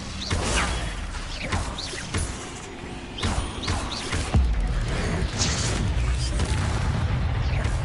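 Spell effects from Hogwarts Legacy combat, including a fiery Incendio cast, burst out as repeated whooshes and booming impacts over a dense, steady game soundscape, loud and close, with several sharp hits spaced a second or two apart.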